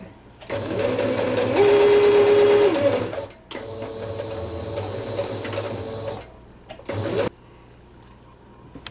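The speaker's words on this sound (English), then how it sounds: "you definitely want to back stitch on the start and finish of these to make sure you have a nice secure start and end" A sewing machine stitches a seam on a homemade hot-cold pack, running in loud bursts that stop and start as it reverses to back stitch, close up, with no voices.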